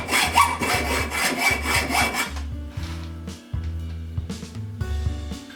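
A hand saw cuts through metal stock to part off an arbor in a workshop, a close, rhythmic rasping of back-and-forth strokes that slow and grow lighter toward the end, with no talk.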